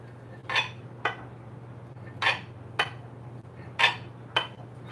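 A knife cuts through a tray of strawberries and cream jello, sounding as six short, sharp clicks and taps at uneven intervals over a steady low hum, with no voices.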